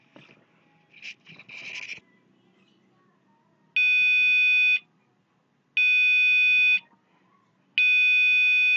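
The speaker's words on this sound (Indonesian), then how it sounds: "Waktunya 1 detik dia bunyi dengan frekuensi 500, kemudian berhenti selama 1 detik." An Arduino-driven buzzer sounding a steady 500 Hz tone, giving three loud beeps each about one second long separated by one-second silences, preceded by some quiet handling noise.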